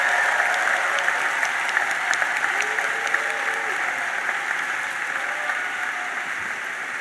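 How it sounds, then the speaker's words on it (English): A comedy club audience applauds a comedian coming onstage, a steady, dense wash of clapping that stays loud and fills the room, with a little crowd noise mixed in. "Please put your hands together."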